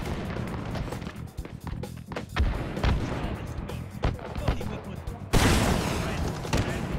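Explosive rocket blasts while rocket jumping in the VR shooter Hot Dogs, Horseshoes & Hand Grenades, several sharp booms scattered among gunfire-like bursts, loud and close, with a player talking over parts of it.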